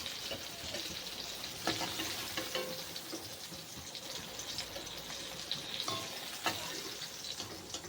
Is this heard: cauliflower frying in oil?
yes